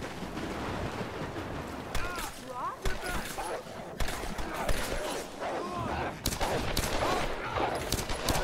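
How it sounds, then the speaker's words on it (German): Several bursts of gunfire in the video game Tomb Raider crack out in short clusters over steady background noise, with a voice talking throughout. "Da waren wieder gerade so ein paar Schüsse."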